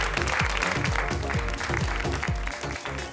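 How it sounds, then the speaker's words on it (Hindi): A crowd at a textile fair claps loudly and steadily for a prize winner, a dense continuous roar of applause filling the whole moment, with a bright rhythmic beat of music running underneath. "जोरदार तालियां हो जाए प्रवीण गुप्ता जी के लिए।"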